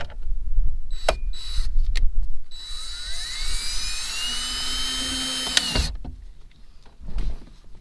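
A power driver tightens 7mm bolts on a steering column, giving a short whirring whine with rising pitch after a few knocks and clicks, close up, followed by more handling clatter.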